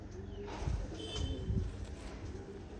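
A kept pigeon, one of several shown for sale, gives a few soft, low coos at moderate distance, faint against a quiet background.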